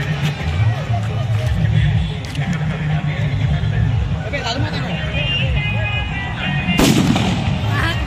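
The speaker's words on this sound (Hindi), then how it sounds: "इधर पटाखा फोड़ रहा है" Firecrackers bursting at an outdoor match-day gathering, with a box blown apart, giving loud sharp blasts and one big crack near the end over a constant noisy crowd with people talking.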